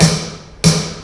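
Two sharp snare drum strikes come from a D4 electronic drum module, loud and close, each with a crisp crack and a brief ringing tail, with nothing else sounding.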